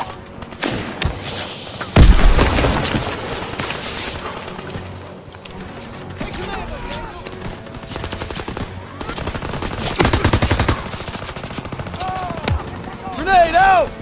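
Gunfire in the World War II shooter Call of Duty WWII during the D-Day beach landing: loud bursts and sharp shots, with a heavy blast near the start and more bursts around the middle, over a dense battle din.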